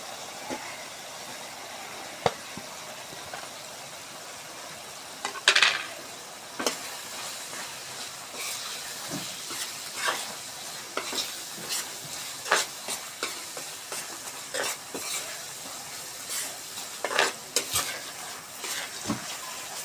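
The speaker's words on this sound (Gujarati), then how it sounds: "આ જે આપણે પનીર ખમણીને રાખ્યું છે એ આપણે હવે આમાં એડ કરી દઈએ" Grated paneer stirred into sizzling masala gravy for dhaba-style Amritsari paneer bhurji, with a steady frying hiss under repeated spoon scrapes and clinks against the pan.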